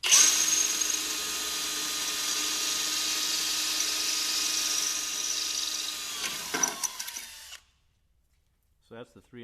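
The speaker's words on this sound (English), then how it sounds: "This is a 1/4 inch drill bit at this point." Power drill boring holes in a suspension bracket for a 36-inch front suspension kit, whining loudly and steadily for about seven seconds before slowing and cutting off, followed by silence and a few faint knocks.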